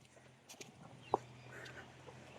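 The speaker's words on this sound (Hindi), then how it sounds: "मुर्गी भाई इसमें छुपी हुई है और मुर्गा तो घूम रहा है" A rooster and hen roaming the grounds of a jungle ashram, with faint scattered clucks and one short, sharper cluck midway, soft and distant over quiet outdoor ambience.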